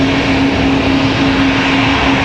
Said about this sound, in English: We've got a Delta A220-100 coming down the hill here.